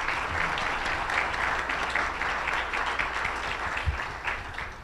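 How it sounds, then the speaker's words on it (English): An audience at a San Antonio business conference on healthcare applauds steadily, a dense wash of many hands clapping at moderate distance, sustained for several seconds without speech. "please join with me in giving them a warm round of applause"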